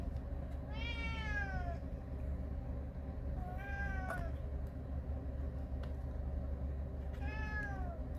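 A cat meows three times, spaced several seconds apart, fairly close against a low steady background rumble.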